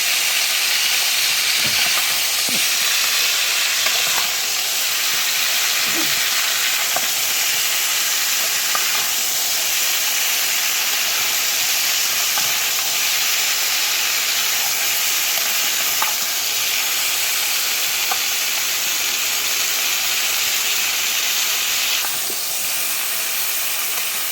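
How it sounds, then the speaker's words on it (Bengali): Mango pieces for a sweet, sour and spicy mango pickle fry in hot oil while being stirred. A loud, steady, close hiss and sizzle runs without a break, with faint stirring scrapes and no voices. "নাড়াচাড়া করে একটু ভেজে নেব"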